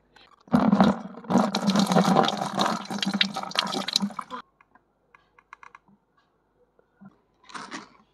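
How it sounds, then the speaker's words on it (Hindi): Water splashes and streams loudly onto a face during a waterproof makeup test for about four seconds, followed by quiet dripping and a brief final splash. "ये देखिए इतना सारा पानी डाल दी"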